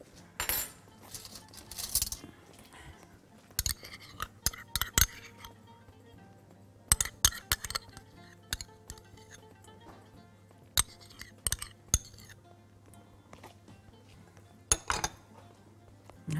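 Metal spoon clinking against a bowl while soy sauce and mustard are stirred together, with sharp clustered taps at irregular intervals over a steady low background hum.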